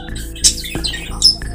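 White doves call in short squawking bursts, fairly close and clear, over a faint background hum.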